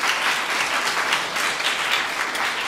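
Steady applause from a concert audience, dense clapping that holds at an even level for a few seconds with no voices.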